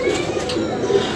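Pigeons coo on a rooftop, a soft rolling low warble repeating through the short stretch, close and fairly clear, with faint background noise.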